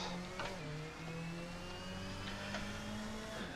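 A race car engine in a racing video game drones steadily with a whirring tone that dips slightly as the brakes lock, continuous and fairly loud throughout.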